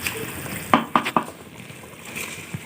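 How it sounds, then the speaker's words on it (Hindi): Uncooked sela rice poured into a cooking pot of potatoes for aloo tahari, giving three quick close clattering bursts in a row, then a quieter rustle and a small knock. "अब हम इसमें चावल ऐड कर देंगे।"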